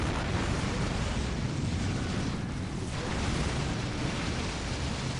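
A nuke detonating in Dawn of War Unification, heard as a continuous, loud, broadband rumbling roar that fills the entire span without letting up.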